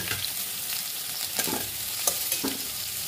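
Potatoes and pointed gourd frying in a little oil in a pan, a steady close sizzle broken by a few scraping stirs.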